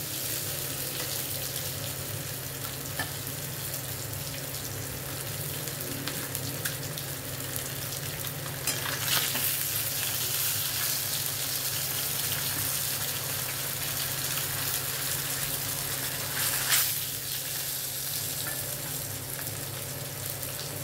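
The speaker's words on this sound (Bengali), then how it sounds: "মাছটা আমি ভেজে নিচ্ছি।" Rui fish fries in oil with a long, even sizzle held close and moderately loud, broken by a couple of brief louder spattering bursts.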